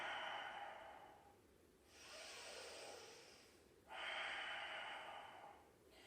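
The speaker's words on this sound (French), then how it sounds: "Et je respire." Slow, deep breathing held through a yoga inversion posture, long airy inhales and exhales alternating with brief quiet gaps, close to the microphone with no talking.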